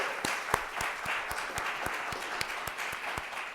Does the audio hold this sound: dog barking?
no